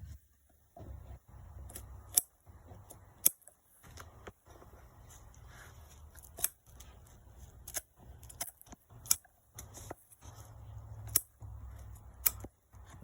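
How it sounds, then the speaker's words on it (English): Scissors snip repeatedly through the foam padding of a Honda Accord arm rest, sharp close-up clicks and crunches in an irregular rhythm, with no talking. "Take your scissors, cut that foam out just like that."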